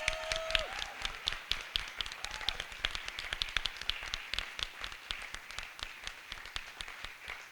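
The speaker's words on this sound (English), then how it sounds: "let's give our host a big round of applause" An audience at a community panel discussion in Midland, Michigan applauds as the host walks in: steady rapid clapping from many hands, dense and continuous, with faint cheering and a brief whistle.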